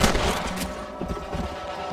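Rifle fire while hunting rabbits in Red Dead Redemption: a quick string of sharp cracks, loud and close, followed by rumbling echoes and scattered lighter pops.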